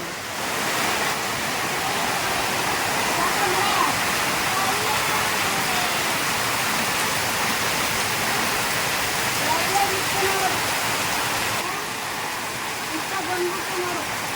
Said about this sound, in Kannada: ಇವಾಗ ಮಳೆ ಹೇಗೆ ಬರ್ತಿದೆ ಅಂತ ತೋರಿಸ್ತೀನಿ